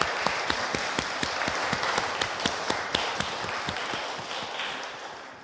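A church congregation at a Sunday worship service in Paris claps in encouragement for Sunday school teachers and children, with sharp, fairly regular claps over a soft wash of room noise, at moderate volume.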